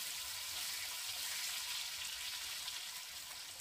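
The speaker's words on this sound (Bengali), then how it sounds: "আলুর টুকরোগুলোকে নেড়ে চেড়ে 2 মিনিটের মতো একটু ভেজে নেব।" Potato pieces fry in a pan with a steady, even sizzle that holds through, ending in a sudden loud knock.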